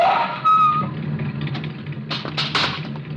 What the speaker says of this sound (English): He comes to the intersection of a street and alley, just as a car turns the corner.